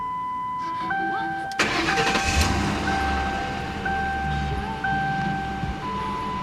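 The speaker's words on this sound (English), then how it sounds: "Let's go ahead and fire her up." A 2006 Ford Crown Victoria Police Interceptor cranks briefly, fires and settles into a steady close idle, with chime tones sounding over the engine.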